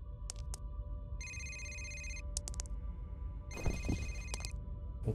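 A telephone rings in the video game F.E.A.R., giving repeated bursts of electronic trilling ringtone separated by short gaps. The ringing is clear but moderately quiet over a low background hum.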